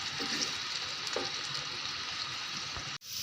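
Two onions fry in about half a bowl of oil, giving a steady close hissing sizzle with soft stirring scrapes, cut off abruptly near the end.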